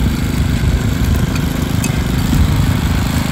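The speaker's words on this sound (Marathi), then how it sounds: "आता ती मशीन चालवते, रांगरणी करते मशीनने." A rice field weeding machine running steadily at close range in a Kokan paddy, a loud continuous small-engine drone with a rough mid-low rumble and no speech.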